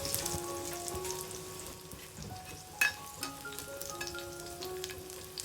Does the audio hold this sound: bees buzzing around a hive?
no